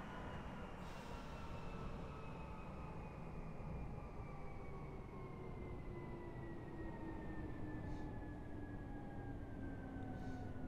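A train in the Train Drive ATS 2 video game slows to a stop, giving a steady rumbling rail roar with a slowly falling whine and a few faint squeaks, continuous and close, with no talking.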